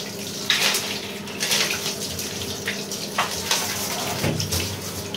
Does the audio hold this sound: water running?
yes